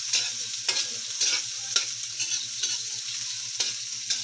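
A spoon stirs tomatoes in a sizzling frying pan. Scraping strokes come about every half second over a constant bright hiss of frying, close and alone.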